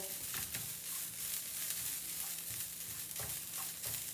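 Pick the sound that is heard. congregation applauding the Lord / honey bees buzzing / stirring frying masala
stirring frying masala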